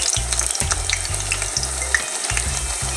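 Eggplant slices frying in hot oil in a pan give a steady, dense sizzle with crackling spatter, close and loud throughout, over a low rhythmic mechanical hum.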